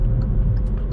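Low, steady engine hum and road rumble inside a 2021 Kia Stonic 1.0 T-GDI mild-hybrid with 120 hp and a 7-speed DCT while driving, a brief, even drone heard alone.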